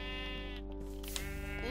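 A sheep bleats in the Minecraft video game, heard as short buzzy game bleats over a dense, constant backdrop of game music and sound.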